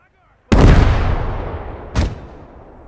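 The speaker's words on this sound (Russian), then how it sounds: "That mortar is so nice!" German mortar fire in the WWII game Gates of Hell: Ostfront, a sharp loud boom with a long rumbling decay, followed about a second and a half later by a second, fainter blast.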